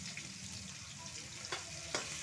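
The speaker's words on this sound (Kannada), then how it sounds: "ನೀರುಳ್ಳಿ ಸ್ವಲ್ಪ ಚೆನ್ನಾಗಿ ಫ್ರೈ ಮಾಡಬೇಕು." Two lengthwise-sliced onions sizzle softly in a hot pan for an egg dish, a faint, continuous frying hiss with a couple of light stirring scrapes.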